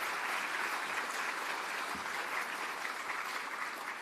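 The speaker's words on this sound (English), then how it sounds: "give yourselves a clap, please do." A large conference audience at a national pro-life campaign event claps steadily and continuously, a dense, even wash of applause with no voices on top.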